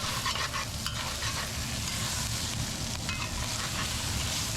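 Egg being stirred into mushroom fried rice in a hot pan, a continuous dense sizzle with quick scraping and tossing strokes of the utensil, close and steady throughout with no talking.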